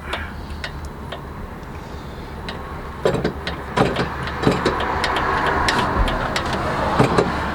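An 1800 HP Detroit 12V71 diesel engine that had been sitting runs with a low, steady rumble under scattered ticks, clicks and metallic taps just before shutdown.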